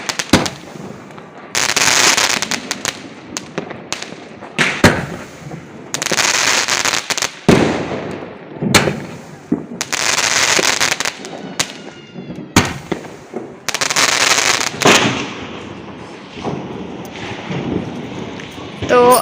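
Firecrackers and fireworks bursting at a home Lakshmi Puja celebration, a dense series of loud cracks and crackling bursts, some close and some farther off, with brief voices between.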